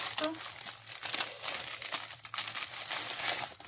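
Diamond painting canvas packaging crinkles and rustles as it is unwrapped, a steady close crackle of plastic film lasting a few seconds, with someone speaking quietly over it.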